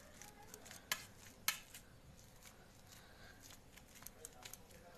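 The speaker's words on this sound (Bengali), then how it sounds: "হাতার সাহায্যে আমি এগুলোকে মেখে নেব।" A ladle mixing potato filling for kochuri in a bowl, faint scraping and stirring with a couple of sharp metallic clinks, under quiet talk.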